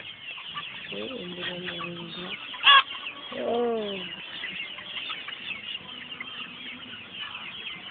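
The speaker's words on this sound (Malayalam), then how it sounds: "എത്ര കോഴികളുണ്ട്, കുറേ ഉണ്ടല്ലേ" Chickens on a farm cluck in short bursts, with a brief louder squawk near the middle and a longer call after it. Faint background noise fills the space, and a single short spoken word comes in briefly.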